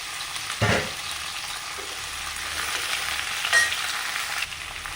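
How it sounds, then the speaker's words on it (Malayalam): Sliced onions, salted, sauté in hot coconut oil in a pan for a Kerala-style country chicken curry, giving a loud, continuous sizzle with a couple of brief scraping stirs. "അതിലേക്ക് 5 സവാള അരിഞ്ഞത് ഇട്ട് കൊടുത്തു. ഇനി ഇതിൽ ലേശം ഉപ്പിട്ടിട്ട് നമുക്കൊന്ന് വഴറ്റിയെടുക്കാം."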